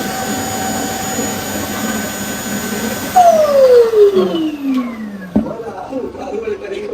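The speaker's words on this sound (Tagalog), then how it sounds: "nag-unbox tayo ng yung napakatagal na namin na robot na vacuum" An iRobot Roomba 105 robot vacuum whirs with a steady motor hum, then gives a sharp falling whine as the motor winds down, while people talk nearby.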